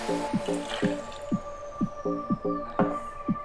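Juice for a fruity martini is poured into a metal cocktail mixing tin, making a close rhythmic series of glugging, dripping liquid sounds that repeat about every half second.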